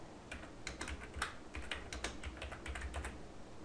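Steady, fairly quiet tapping on a computer keyboard while entering recipe ingredients into a website form, a continuous run of close key clicks over a faint background hum.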